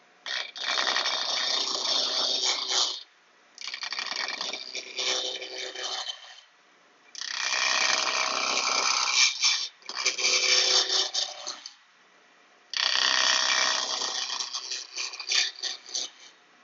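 A Shopsmith Mark V wood lathe turns a square spindle blank at fairly high speed, with a high-speed steel tool cutting in loud, rough, rattling bursts of a few seconds each, separated by short quiet pauses.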